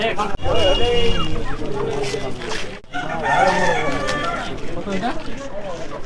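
A fighting rooster crows twice amid a noisy crowd at a weekly tribal rooster market in Purulia, with people talking and haggling loudly close by throughout.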